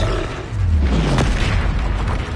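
An Incendio fire spell cast in Hogwarts Legacy on PS5, a loud booming whoosh with a deep rumbling burst that swells after a moment and holds steady until the end.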